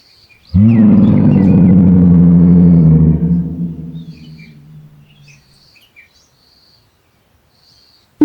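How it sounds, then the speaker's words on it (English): A lion's single long, deep roar, loud and close for about three seconds before it fades into a low rumble, with faint bird chirps in the background. "lion"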